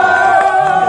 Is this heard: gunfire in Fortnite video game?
no